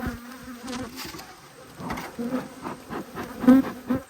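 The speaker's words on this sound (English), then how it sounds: "As you can see, the bees aren't very happy." Agitated honeybees at an opened hive during a beekeeping inspection, a dense continuous buzz with sharper passes of individual bees close by, swelling in loudness toward the end.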